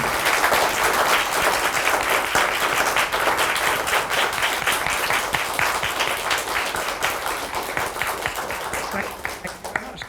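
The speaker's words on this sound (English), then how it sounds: "Let's give the Reverend Doctor one more round of applause." A university event audience gives a round of applause for a speaker, sustained dense clapping that gradually thins and fades toward the end.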